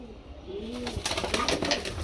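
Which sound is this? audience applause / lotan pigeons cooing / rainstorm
lotan pigeons cooing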